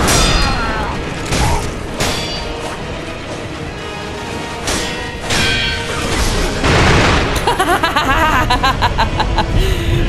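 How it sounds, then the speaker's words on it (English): Loud bursts of crackling firecracker explosions and booms pop repeatedly amid dense game noise in Sekiro, during the Isshin, the Sword Saint boss fight, with no voices over them. "Panic firecrackers."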